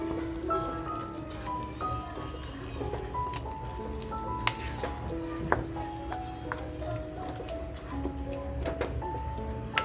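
Steady sizzling of minced mutton (tandoori mutton keema) steam-cooking in a pot, with soft stirring and scraping clicks throughout; close and continuous, no voices.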